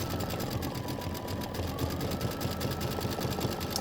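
An embroidery sewing machine runs steadily while it stitches a decorative pattern, giving a dense, even mechanical whir with a fast rhythmic chatter that stays close and constant throughout.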